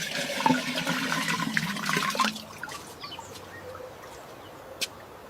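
Water gushes and splashes loudly as it is poured into a container, then tapers to a soft trickle with scattered drips and faint bird calls in the background.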